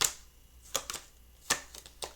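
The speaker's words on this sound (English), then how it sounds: "Let me shuffle one more time." A deck of tarot cards is shuffled in a few quick, crisp riffling bursts separated by brief pauses, close and fairly quiet with no talking.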